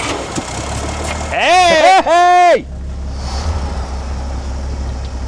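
An old truck engine that had sat unused for 35 years idles with a steady low rumble throughout, while a person shouts loudly twice over it partway through.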